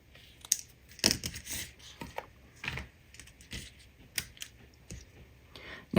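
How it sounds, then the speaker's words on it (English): Scissors trim adhesive-backed foil paper for a handmade card, giving close, quiet snips and crisp paper crackles in an irregular rhythm with short pauses between cuts. "so now I'm just going to trim right here at this angle, and I'm going to trim off the handles on both of these."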